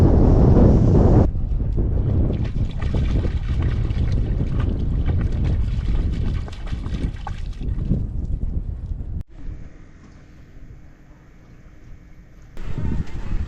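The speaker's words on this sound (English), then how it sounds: "you can see how windy it is up here" Strong wind buffets a hilltop above a lake, roaring loudly across the microphone in heavy gusts that ease briefly toward the end before surging again.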